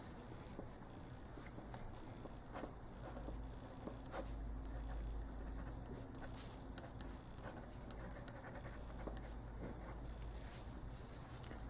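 A pen scratching on paper while working out a logarithm problem, faint, steady writing strokes and small taps against a quiet room hum, with no clear talk.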